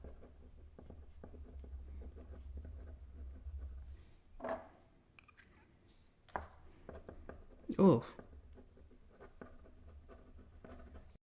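A glass nib pen drawing ink across slick bank paper gives faint scratchy strokes over a low hum, broken by a few louder knocks and brief speech.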